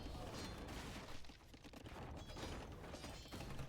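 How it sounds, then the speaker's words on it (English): Mangonel siege attacks crash and rumble in a dense, continuous Age of Empires battle, with overlapping impacts and thuds under a steady wash of game noise and commentary. "Camel's getting killed by the mangonels."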